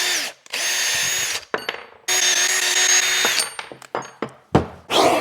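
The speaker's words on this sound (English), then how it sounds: "since they are nylon lock nuts, I will have to unlock them with a tap first" A power drill drives a threading tap through nylon lock jam nuts for a 50-year-old tractor, running in loud sustained whining bursts separated by pauses, clicks and metallic knocks.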